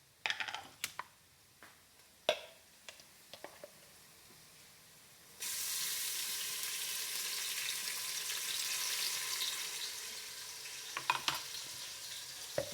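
Ginger paste drops into hot oil in a pan and erupts into a sudden loud, sustained hissing sizzle, preceded by a few scattered taps and clicks and followed by light clinks near the end.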